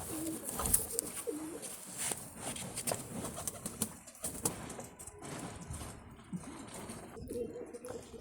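Pigeons of the Chinese breed coo in a loft, soft repeated coos layered over a busy background with occasional rustles and faint voices.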